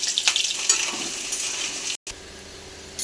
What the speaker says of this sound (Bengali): তেল গরম হয়ে গেছে, আলুগুলো ভেজে নেব